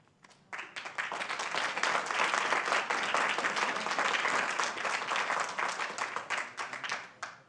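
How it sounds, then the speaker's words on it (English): Applause at a town council meeting: an indoor audience claps steadily for several seconds, swelling quickly and then thinning out to a few scattered final claps. "Please, no applause."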